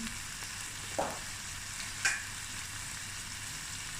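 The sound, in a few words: chicken akhni with biryani masala sizzling and being stirred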